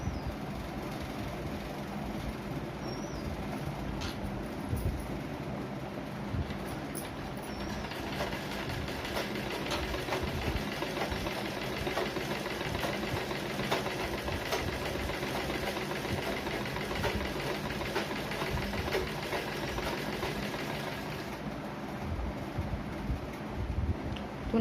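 A sewing machine stitches a quarter-inch seam through blouse lining fabric, its motor humming in a fast, steady mechanical whir with fine rapid ticking, running almost unbroken and fairly close for the whole stretch.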